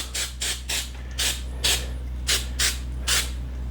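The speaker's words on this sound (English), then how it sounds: "I'm going to spray these down." Hairspray from an aerosol can is misted over parts of a 1/350 scale Klingon Bird of Prey model in about eight short, close bursts, each a crisp hiss, over a steady low hum.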